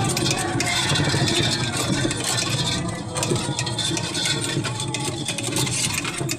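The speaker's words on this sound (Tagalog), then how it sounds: "Ingay to e-bike" An e-bike rolls over a rough, potholed road, a steady loud motor-and-road rumble with rattling bumps throughout, close and continuous with no break.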